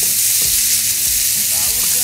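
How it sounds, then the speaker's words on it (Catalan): Catalan cansalada (pork belly bacon) sizzling loudly and continuously in a pan as it renders its own fat, a close, dense crackling hiss with no talk. "Ja ens està deixant anar tot el seu greix."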